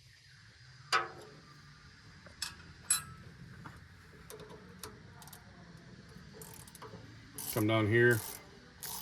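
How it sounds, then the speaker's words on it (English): Ratchet clicking on nuts while adjusting the chain of a Timberwolf firewood processor, with a few sharp metallic knocks, soft ratchet ticks and a short spoken phrase near the end. "use your ratchet. This works a little faster."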